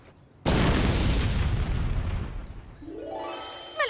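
A cartoon oxygen bottle explodes with a sudden loud boom that rolls into a long, crackling rumble and fades slowly, with a rising whistling tone at the end and no talking.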